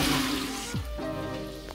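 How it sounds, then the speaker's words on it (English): A toilet in an abandoned home gives a brief half flush, a short rush of water that fades into gurgling and trickling, close and fairly loud. "Time to do a half flush."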